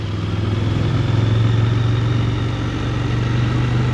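The engine of a KTM Duke 890 L motorcycle pulls under throttle on a ride, giving a loud, steady, throbbing drone that swells slightly as revs build and then holds, close and with no voices.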